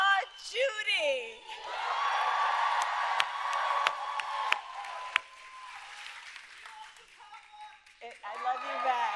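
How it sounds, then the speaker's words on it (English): A rally crowd applauds Judy with loud clapping, cheering and whoops, a dense wash of sound punctuated by a few sharp claps, with shouted voices rising at the start and end. "Can we please applaud Judy?"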